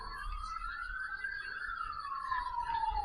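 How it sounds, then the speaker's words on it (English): A siren wails somewhere in the distance, one long tone sweeping slowly up and then back down, faint and low in level. "That's why they are blowing the siren."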